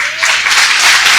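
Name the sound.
church congregation applause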